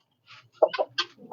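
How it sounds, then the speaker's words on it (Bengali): Fancy chickens in a small backyard poultry farm pen cluck in a few short, quiet bursts close by, with no talking. "এখানে শৌখিন মুরগি আছে, তো এরা দেখলে খুব ভয় পায়।"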